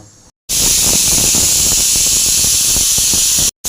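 A pressure cooker whistle, cooking cabbage, lets out a steady, loud hiss of escaping steam for about three seconds, then cuts off abruptly.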